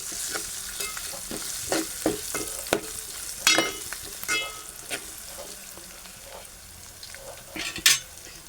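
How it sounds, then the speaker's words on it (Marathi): Curry leaves and ginger pieces sizzle in a hot tempering for buttermilk kadhi, with a continuous crackle broken by sharp stirring scrapes and spatters, close and fairly loud. "कढीपत्ता टाकूया आणि चार पाच आल्याचे तुकडे टाकू जर तुम्हाला आवडत नसेल तर ते तुम्ही नाही टाकले तरी चालेल आणि ढवळून घेऊया"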